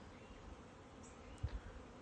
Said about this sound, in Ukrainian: Бджоли повно, ось та нова поїлка, там теж он повно літають.